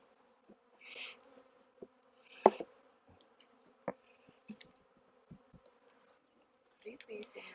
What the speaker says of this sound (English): These bees seem very nice too.